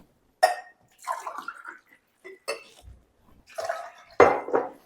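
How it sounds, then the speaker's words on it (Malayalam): Water is poured into glasses for lemon juice in short bursts of splashing and trickling, each with a few clinks of glass in between. "നമുക്ക് 2 ഗ്ലാസ് വെള്ളം ഒഴിക്കാം"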